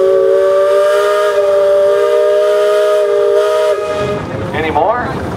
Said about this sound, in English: You got a whistle?